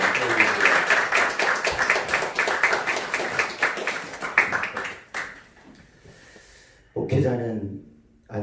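Applause from a congregation at a Korean Presbyterian pastoral ordination ceremony, a dense, steady round of many hands clapping that fades out midway, followed by someone speaking after a short lull.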